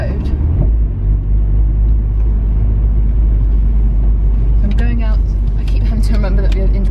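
Nissan S15 driving on a public road, a heavy continuous engine and road rumble heard from inside the car, with a voice talking over it toward the end.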